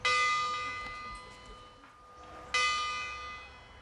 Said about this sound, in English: Bells are made of bronze because of the sustained notes it produces and its corrosion